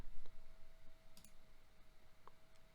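Single soft mouse click on a Start Attack button in a software security testing tool, quiet and isolated against a faint steady hum with no talk.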